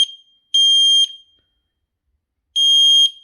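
Smoke detector alarm sounding two shrill electronic beep bursts, each about half a second long and separated by a gap, loud and alone with no talking.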